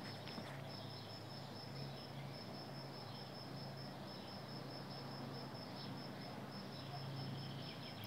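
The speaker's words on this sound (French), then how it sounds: "vous entendez le grillon?" Faint, steady cricket chirping carries on throughout over a soft, constant outdoor hiss, with no voices.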